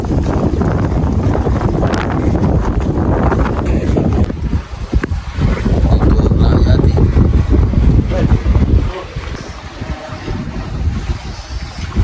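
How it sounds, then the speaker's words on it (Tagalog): A boat engine rumbles steadily amid heavy wind buffeting and splashing water as a boat arrives at a pier, loud and continuous throughout. "Parating daw palang bangka."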